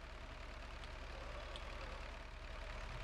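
A car engine in the video game Junkyard Simulator labors up a steep climb, a steady low, heavy drone with a faint knocking texture, heard alone and with no voices over it.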